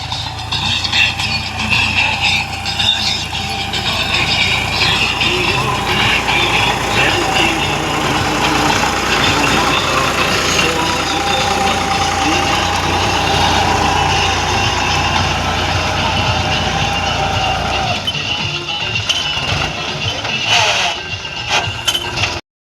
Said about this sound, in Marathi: आमच्या शेतात नांगरणं चालू आहे ट्रॅक्टर ट्रॅक्टरनी